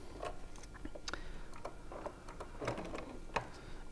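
A sewing machine stitches curved quilt block pieces with a shorter stitch length, a quiet, close run of rapid mechanical ticks and clicks in short uneven bursts.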